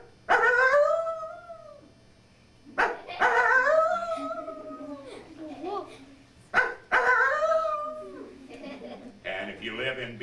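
A wild canine howling at night, three long rising-and-falling howls with yips and whimpers between them, each separated by a short pause, close and clear with no talk.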